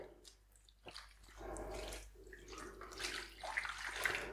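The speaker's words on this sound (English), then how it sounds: "you're going to want about 350 ml of chicken stock. We're just going to pour that in the bottom." Chicken stock poured into a pan for braised leg of lamb, a soft watery splash and trickle that swells after a second and runs on steadily, moderately close, with no talk.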